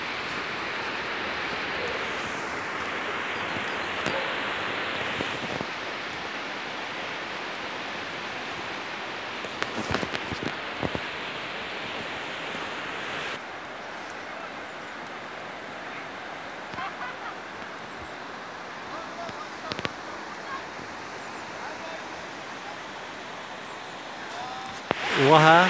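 Jermuk waterfall on the Arpa river in Armenia, a steady broadband roar of falling water that fills the whole clip with a few brief louder bursts and no talk over it.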